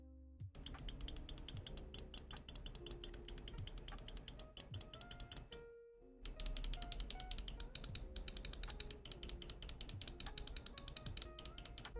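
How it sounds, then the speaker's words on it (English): Pwnage StormBreaker keyboard optical and mechanical switches click and clack in rapid, steady typing bursts, close and crisp, with a short pause in the middle. "the mechanicals are more defined with a deeper sounding click feel, while the opticals sound smoother and lighter"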